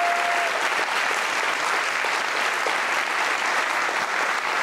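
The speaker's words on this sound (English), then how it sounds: "give Ben a last round of applause for his amazing story." Sustained audience applause honoring a Holocaust survivor after his testimony at a remembrance event, steady and dense clapping filling the room for several seconds with no talk over it.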